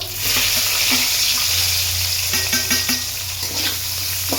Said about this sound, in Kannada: ಚೆನ್ನಾಗಿ ಫ್ರೈ ಮಾಡೋಣ ಈರುಳ್ಳಿ ಕಲರ್ ಚೇಂಜ್ ಆಗೋವರೆಗೂ ಫ್ರೈ ಮಾಡೋಣ